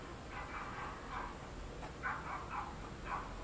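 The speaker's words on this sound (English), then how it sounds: "dog fight, chihuahua fight." Small chihuahuas scuffling in a dog fight, with repeated high yips, whimpers and growly snarls in short bursts over a steady background hiss, fairly faint and somewhat distant.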